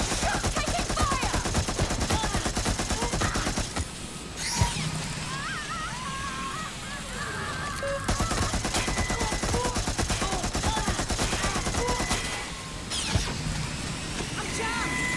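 Sustained automatic gunfire and bursts of shots in a Watch Dogs: Legion firefight, loud and continuous across the whole stretch, with brief dips and sharp impacts around the middle and near the end; shouted voices mix in.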